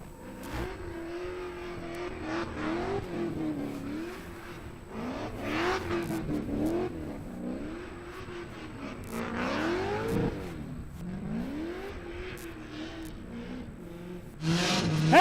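A race car engine revs and accelerates at Raceway Park during a round of The Gambler event, with repeated rising and falling engine pitch over about fifteen seconds, fairly distant and steady, and no voices.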